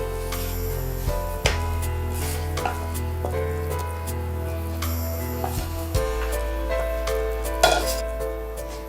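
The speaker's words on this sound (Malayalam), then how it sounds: "ഇനി ഇത് നമ്മൾ നേരെ ഇത് നെയ്യ് തടവിയ ഒരു പാത്രം അതിലേക്ക് മാറ്റും." Cooked coconut kesari is scraped and spooned from a pan into a ghee-greased dish, with close metallic clanks and scraping strokes coming in irregular bursts and a soft sizzle beneath.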